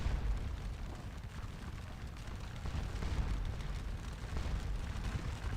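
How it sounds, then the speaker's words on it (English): A musket volley fired into an enemy flank during a Napoleonic battle in the Scourge of War: Waterloo game, heard as a dense, sustained rumble of massed gunfire that stays steady and loud throughout with no one speaking. "Nice volley right into the enemy flank."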